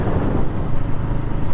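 A Royal Enfield Guerrilla 450 single-cylinder motorcycle engine runs at low revs, giving a steady, loud, close rumble with no break.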